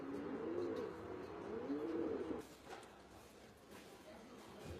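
Racing pigeons coo in low, warbling rolls for a couple of seconds, close by, followed by softer rustling and faint bird sounds.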